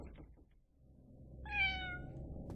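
A single cat meow from the RPG Maker horror game Fausts Alptraum, one clear drawn-out call rising in the second half over a low quiet background hum.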